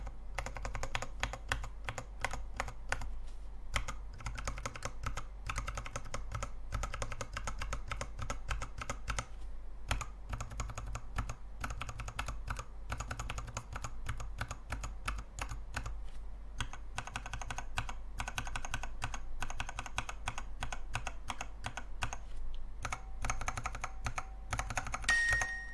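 Lubed mechanical computer keyboard switches clicking in a steady, dense stream of close, soft taps, with no voices over them.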